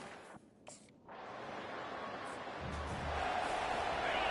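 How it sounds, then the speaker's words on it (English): A stadium crowd roars in a college football video game, a dense wash of cheering that swells in after a brief dip and builds louder toward the end. "The roar of the crowd trying to fuel this defense to keep them pinned in their own end."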